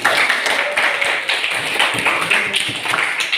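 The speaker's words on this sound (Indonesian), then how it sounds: "Tepuk tangan untuk kalian." A class of students claps hands at the close of a school lesson, a steady patter of quick overlapping claps with some voices mixed in, close by and fairly loud throughout.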